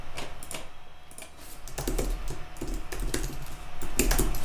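Rapid, uneven typing on a computer keyboard, with clusters of close, crisp key clicks and short pauses between bursts, heard alone without talk.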